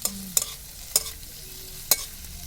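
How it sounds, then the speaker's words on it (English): Chilli chicken stirred and fried in a pan: a steady low sizzle runs throughout, broken by three sharp, close utensil scrapes against the pan at uneven intervals, with no talking. "stirring this for a while. We'll fry it for a while."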